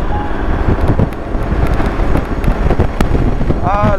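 Strong wind buffets the microphone in loud, continuous rumbling gusts during a motorcycle ride in the Philippines, with faint traffic noise mixed in and no clear speech.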